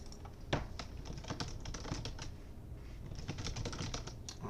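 Quick, irregular keystrokes on a computer keyboard, close and fairly quiet, with a brief pause before the tapping picks up again in a fast run.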